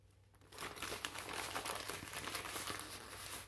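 Crinkling subscription box packaging, cut along the edge for opening, makes rustling plastic and paper crackles that start after a short quiet beat and run steadily at close range, with soft tearing hints and no speech.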